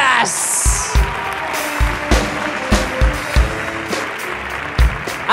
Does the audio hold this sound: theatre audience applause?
yes